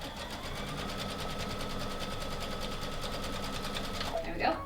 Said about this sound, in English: I'm going to sew up to here